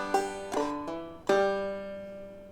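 Clawhammer banjo phrase of an open fourth string, a hammer-on and the open third string: four bright plucked notes in quick succession, the last ringing out, quiet and close with no talk.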